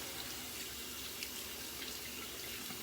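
A hand is rinsed under a running tap during a wet shave, with a faint, steady stream of water splashing into a sink.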